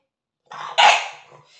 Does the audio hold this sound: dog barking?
yes